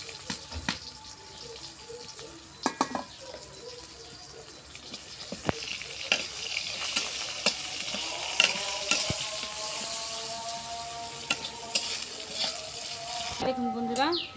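Onion sizzles in hot oil with cumin seeds and bay leaf, a steady frying hiss with clinks and stirring scrapes of a utensil, fairly close and moderate in volume, with no talking.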